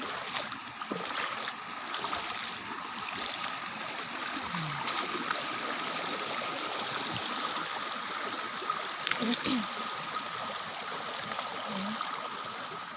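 A stream rushes and trickles steadily in the open air, with faint scattered voices and a few small splashes in the distance.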